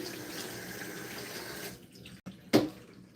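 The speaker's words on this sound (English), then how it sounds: "I always like to rinse it off first." Food is rinsed under running water from a kitchen sink tap, a steady close splash that stops partway through and is followed by a brief gush and a couple of soft knocks.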